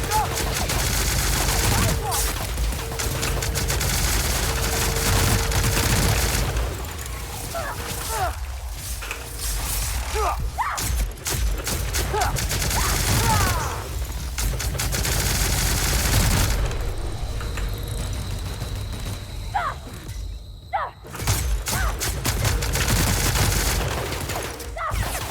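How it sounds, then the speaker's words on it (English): A Gatling gun fires in The Outer Worlds in long, dense, rattling bursts with sharp impacts and brief pauses, loud and close throughout. "I think maybe the Gatling gun."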